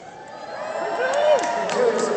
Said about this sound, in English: Gratuitous applause.